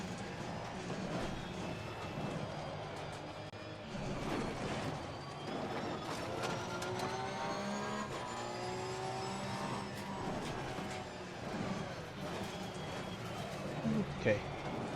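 Porsche Cup race car engine at Bathurst in a racing video game, revving and lifting off through corners with steady gear changes and tyre noise, continuous and close throughout.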